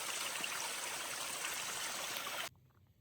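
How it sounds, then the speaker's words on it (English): A small stream cascades over rocks along the Appalachian Trail, a steady soft rushing hiss of water that cuts off abruptly near the end, leaving faint quiet. "Our little cascades and then falling down branches."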